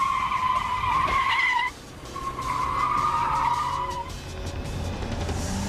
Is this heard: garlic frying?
no